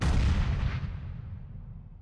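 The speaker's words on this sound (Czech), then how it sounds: "zkusíme granát tam hodit. On trvá, než vybuchne chvilku." A grenade explodes in the sci-fi roguelike game Quasimorphosis, a loud deep boom that opens the clip and rumbles away over about two seconds, with no talk.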